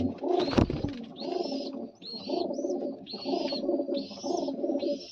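After a sharp knock at the start, pigeons in a loft give repeated rolling coos close by, several throaty phrases following one another in a steady rhythm.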